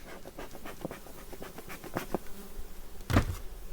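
Honey bees, Carniolan, buzz in a low, steady drone around hive frames with occasional sharper clicks and knocks, fairly quiet and close, with no talking.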